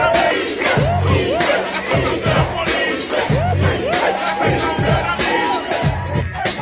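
A big crowd roars and chants loudly and without pause, with rhythmic shouted surges repeating every second or so throughout.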